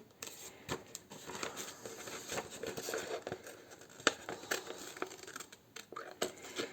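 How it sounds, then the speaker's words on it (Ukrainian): Scissors snip through a paper template in short, uneven cuts with soft rustling and crinkling of the paper between them, close and fairly quiet. "не поспішаючи, акуратно працюємо з ножицями, щоб не пошкодити себе, щоб не обрізати щось зайве"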